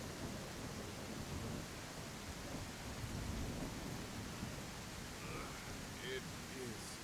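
Steady rain hisses through a thunderstorm, with a low rumbling undertone and a few faint, indistinct sounds surfacing briefly toward the end.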